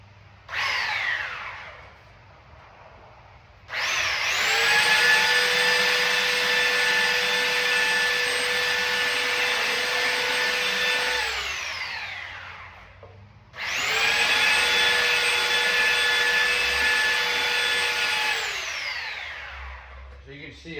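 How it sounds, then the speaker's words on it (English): Power sander shaping the tip of a wooden Civil War flag staff, two long loud whirring runs that rise sharply, hold steady with a high-pitched whine, then spin down, with a brief burst at the start and quiet gaps between. "I'm just gonna basically use the power of the sander to eventually make this into a very smooth tip"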